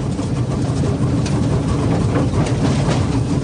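A wood-fired Krauss steam locomotive runs with a steady low rumbling and rattling roar, close and continuous, no talk.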